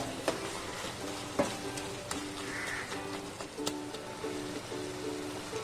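Ground star anise being stirred into an oil-free biriyani, a soft sizzle with a few spoon scrapes against the pot, fairly faint, a bird cooing in the background.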